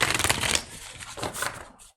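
Tarot cards being shuffled close by, a dense riffling rush that fades into a softer second pass and then stops.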